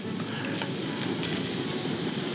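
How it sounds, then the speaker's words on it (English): Food for pasta carbonara sizzles steadily in a hot pan, a dense continuous crackle with faint stirring scrapes and no talking. "once you hear it start to sizzle"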